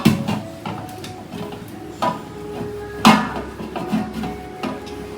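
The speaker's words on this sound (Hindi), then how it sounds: "बस ये सारे बर्तनों को क्लीन कर रही हूँ, चमका लेती हूँ" Utensils being washed and scrubbed at home, with scattered clinks and knocks of metal pots and dishes over a steady background of rubbing and running water, one louder clatter in the middle.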